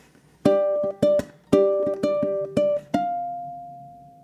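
Ukulele strums the pre-chorus rhythm: six sharp chord hits in a syncopated pattern, the last left ringing and slowly decaying, close and clear with no voices.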